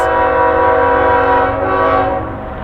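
A train in a Route 66 railroad town in California blasts a loud, sustained multi-tone horn up close, which fades slightly as the train passes.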